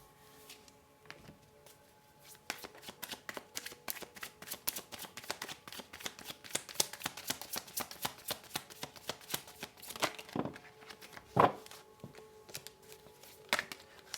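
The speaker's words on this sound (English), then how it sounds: "Sorry, a lot of cards fell out then." Playing cards spill out of a deck in a long, rapid patter of crisp flicks and slaps, dense and close, with a few louder clacks near the end and no talk.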